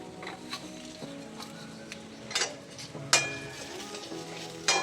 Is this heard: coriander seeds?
yes